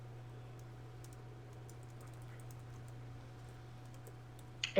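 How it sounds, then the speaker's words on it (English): Quick, light keystrokes tap on a computer keyboard, faint and irregular over a steady low hum, with one louder click right at the end. "I'm typing it out real quick, just the info"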